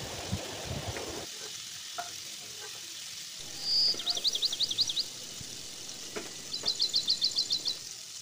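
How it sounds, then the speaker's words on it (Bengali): Prawns fry lightly in white oil in a wok for a Bengali prawn malai curry, giving a soft, faint sizzle, while high bird chirps ring out in two short bursts in the background. "এরপর কড়াইতে সাদা তেল দিয়ে ভালোভাবে একটু ভেজে নেব। হালকা ভাজলেই হয়ে যাবে।"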